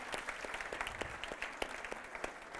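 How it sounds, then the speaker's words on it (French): An audience at a round-table discussion gives steady applause. Many hands clap continuously and evenly at moderate loudness for the whole stretch, with no voices over it. "On peut les applaudir, j'aimerais bien qu'on les applaudisse."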